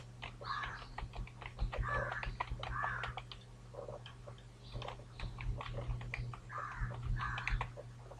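Soft, quick clicks of a computer keyboard as a password is typed, faint and close, mixed under quiet speech and a low steady hum.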